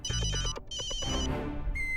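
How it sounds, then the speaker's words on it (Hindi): A phone ringtone playing loud and close, a repeating electronic melody in short bursts with a brief gap, no voices over it. "हाथी भाई का फोन"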